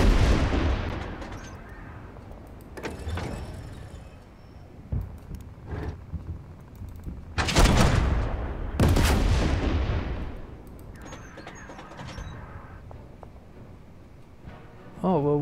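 Tank gunfire in the video game Total Tank Generals during the second battle of El Alamein, 1942; several loud booming shots with long rumbling decays are spread unevenly across the stretch, with someone talking between them.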